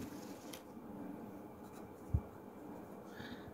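Hand writing during a Grade 4 maths lesson on place value, quiet continuous scratching with one sharp tap near the end, alone without speech.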